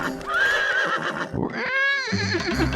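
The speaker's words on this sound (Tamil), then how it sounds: "இது பைத்தியக்கார குதிரை." A cartoon horse, called crazy, lets out a shrill, wavering whinny and then a second clear neigh, with hoof clip-clops underneath, close and loud.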